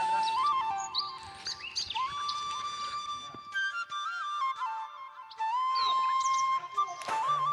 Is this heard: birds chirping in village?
yes